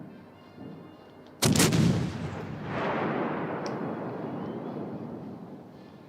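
Naval guns opening fire in a naval warfare video game: a sudden loud booming salvo, then a long rolling rumble that fades slowly, with a faint crack partway through.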